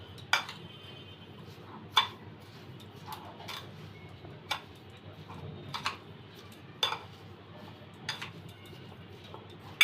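A spoon clinks and taps against a bowl while mixing grated raw mango with sugar, giving quiet irregular ticks and scrapes every second or so against a faint background, with no talking.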